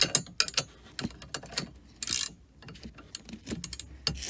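A wrench tightening a nut on a Jeep JK hi-lift jack mount, with quick metallic ratcheting clicks and taps in short irregular bursts, close up and fairly quiet, with no talking.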